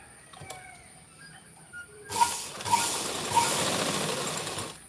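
A sewing machine whirs into a steady, mechanical run partway through, stitching the side seam of a churidar, its motor hum and rattling needle continuing close by after a quieter stretch of handling sounds.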